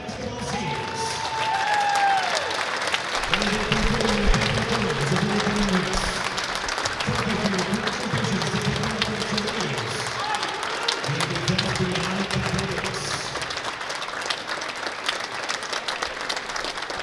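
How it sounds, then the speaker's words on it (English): A basketball crowd applauds three men's seniors on Capital's team at a game against Baldwin Wallace, sustained clapping and cheering filling the gym while an announcer and music sound beneath. "please give a round of applause to these men's basketball seniors"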